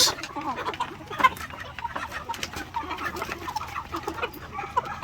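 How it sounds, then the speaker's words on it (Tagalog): Shamo and asil gamefowl chickens cluck in a steady, busy chorus on a farm, with scattered short calls at close to moderate range and no talking. "Ayun yung mga shamo at asil."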